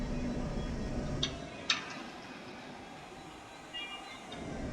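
A ride train rolls along its track in the Planet Coaster theme park game, a continuous low rumble with a couple of brief metallic clacks and faint squeals.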